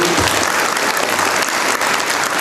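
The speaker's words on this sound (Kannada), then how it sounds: "ಅವರಿಗೆ ಜೋರಾಗಿ ಚಪ್ಪಾಳೆ" An audience at an event claps loudly and continuously, dense sustained applause filling the whole stretch, with faint crowd murmur underneath.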